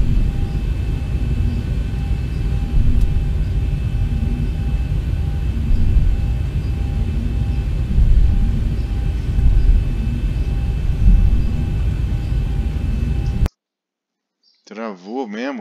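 Boeing 737-800 taxiing in a flight simulator game, with a steady low jet engine drone and rumble plus faint whining tones. The drone cuts off abruptly near the end, and a voice speaks briefly afterward.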